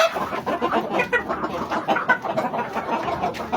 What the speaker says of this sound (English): The particular strains of fowls. It's breeding time. Courtship display,